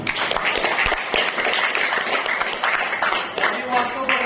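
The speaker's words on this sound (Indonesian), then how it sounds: "kita tepuk tangan untuk kita semua" Class of students clapping hands together in a classroom, a dense, fairly loud round of applause lasting several seconds with voices mixed in.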